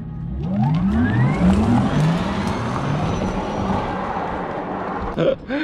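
A Porsche car accelerates hard on a straight, its engine note sweeping upward in rising harmonics as it pulls away, loud and close at first, then settling into a sustained roar before a brief rustle at the end.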